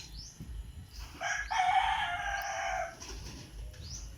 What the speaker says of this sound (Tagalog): mga manok, mga makulit na manok